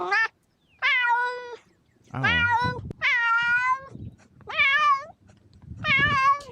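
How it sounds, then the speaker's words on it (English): A cat gives six drawn-out meows in a row, each about half a second long with short pauses between, loud and close, while a person briefly speaks once. "Cat."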